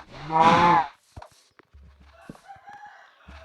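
Cow mooing in Minecraft: one loud, near moo opening the stretch, followed by quieter game clicks and soft tonal sounds.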